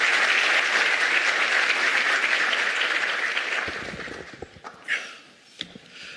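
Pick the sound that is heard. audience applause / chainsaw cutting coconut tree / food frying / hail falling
audience applause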